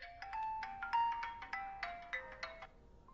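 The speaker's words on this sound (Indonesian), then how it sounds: "telepon berdering" A phone ringtone plays a bright, repeating electronic melody, clear and close, for a few seconds with no one talking.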